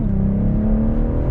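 A 2022 BMW M440i coupe with the B58 engine sets off, its exhaust giving a steady, deep, close drone with no one talking.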